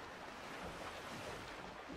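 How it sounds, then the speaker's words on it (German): Water washes and splashes continuously in a video game, a dense, steady surf-like rush without talking. "Voll das Geplätscher."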